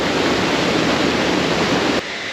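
Steady, loud roar of a waterfall at Lapopu or Matayangu Falls on Sumba, Indonesia, a dense broadband rush of falling water that drops off abruptly near the end.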